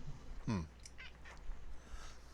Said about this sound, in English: That was my cat biting me